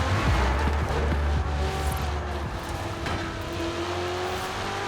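Turbocharged Ferrari engine in the racing game Forza Horizon 4, a steady droning hum with rising gear-change tones, moderately loud and continuous with no talking.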